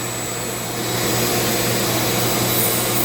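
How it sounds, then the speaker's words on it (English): A Dremel 80 grit sander carves a wooden staff, a loud constant high whir that swells slightly after the first second and runs on without breaks or voices. "This sander I'm using is an 80 grit,"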